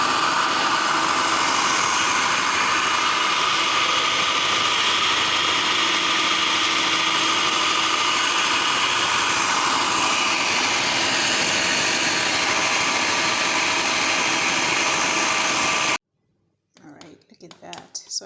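A food processor grinds peanuts into peanut butter with a loud, steady, close motor whir for about sixteen seconds. It then cuts off abruptly, leaving near silence and faint handling noises.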